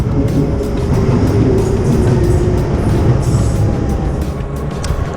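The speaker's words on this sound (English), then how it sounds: "the Docklands Light Railway trains with no drivers" A driverless Docklands Light Railway train in London rumbles steadily, a loud low mechanical drone with faint whines and clatter, heard from aboard or close by.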